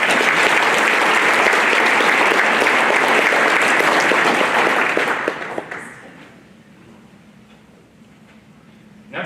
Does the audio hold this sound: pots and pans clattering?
no